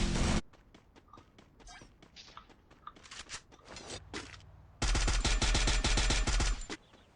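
Gunfire in the video game Free Fire: a loud opening burst, then scattered single shots and short clicks, followed by a long sustained automatic volley before tapering off, with no talk.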